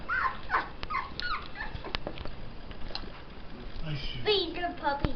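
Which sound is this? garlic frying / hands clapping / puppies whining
puppies whining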